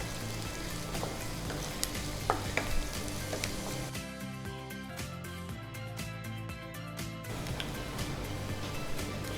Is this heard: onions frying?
yes